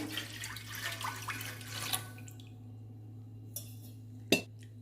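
Half a litre of water poured into a pot for semiya payasam, a soft splashing stream for about two seconds that stops, then a couple of light metallic clinks of the pot.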